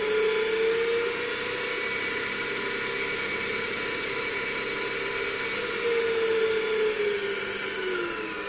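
A DC motor on a single-phase fully controlled bridge drive runs at maximum speed, giving a loud, steady, close whine with a tonal hum that holds throughout and shifts in pitch slightly near the start and end.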